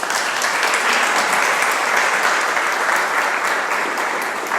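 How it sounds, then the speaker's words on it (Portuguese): A congregation applauds during a church service, a loud and even burst of many hands clapping together that continues for several seconds before easing slightly, with no voices over it. "Uma salva de palmas."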